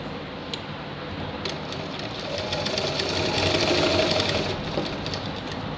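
A sewing machine runs steadily while stitching a shirt seam, a continuous close mechanical whir with a faint rhythmic rattle that swells slightly in the middle, with no talking.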